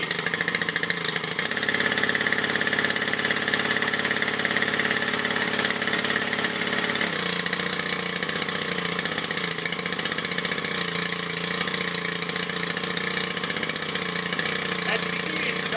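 Stihl FS 130R string trimmer/brushcutter engine idling steadily and close up, a continuous deep, mellow drone that shifts slightly in tone about halfway through.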